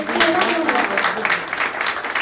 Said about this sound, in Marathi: ह्यासाठी सगळ्यांनी त्या आनंदात टाळ्या वाजवून